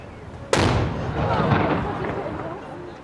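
HMS Belfast fires a ceremonial gun salute on the Thames in London, one sharp loud boom followed by a long rolling echo that fades across the city.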